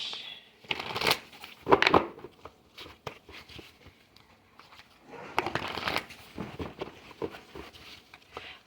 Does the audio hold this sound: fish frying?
no